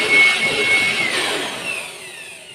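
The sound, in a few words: Ingco 400W aspirator blower running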